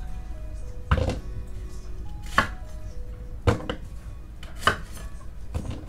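Several spaced knife chops through onion on a cutting board, each a sharp thunk with quiet pauses between, made while cooking on a boat for ossobuco braised in red wine with 70% cocoa.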